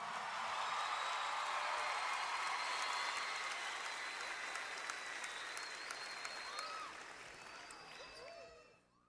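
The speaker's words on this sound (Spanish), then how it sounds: "Un aplauso para Alex, por favor." An audience at a church service claps warmly for Alex, a steady wash of many hands that holds for several seconds, then gradually thins and fades away.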